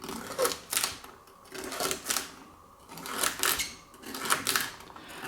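Knife cutting celery into slices a little under 1/8 inch thick on a cutting board for mushroom stuffing, with repeated bursts of crisp chopping in several clustered groups, close and fairly clear with no talking.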